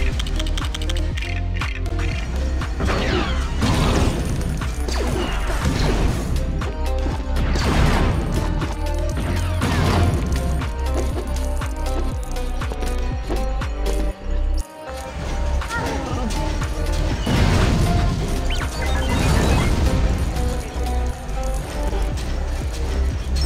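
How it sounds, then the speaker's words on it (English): In Lego Star Wars: The Complete Saga, rocks hurled from pods smash against a wall, giving repeated crunching, clattering impacts over dense game music and effects. The smashes keep coming in bursts throughout at a steady loud level. "You gotta get into these little, like, pod things and, like, chuck these rocks at this wall."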